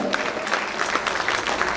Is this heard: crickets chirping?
no